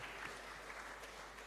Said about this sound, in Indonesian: Tepuk tangan sama ketua panitia